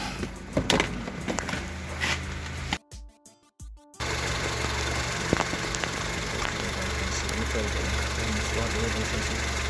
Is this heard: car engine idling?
yes